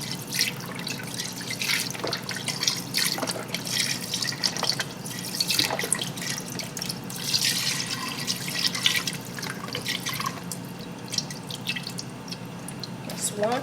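Chicken broth pours from a carton and splashes into a pot with chicken in a steady stream with dripping and sloshing, while a voice talks over it.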